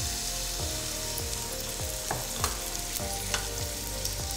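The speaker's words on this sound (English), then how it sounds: "we're gonna saute that up inside this fat until they get a little bit soft" Onions and garlic sauté in rendered beef fat for a smoky tomato soup, a steady close sizzle with a few soft clinks of a utensil in the pan.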